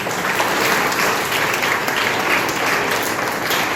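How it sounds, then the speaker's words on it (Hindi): A school audience at a traditional cultural workshop claps loudly and steadily for the students and the school manager in a thick, unbroken burst of applause, with no talking over it. "और एक बार जोरदार तालियां बच्चों विद्यालय प्रबंधक के लिए।"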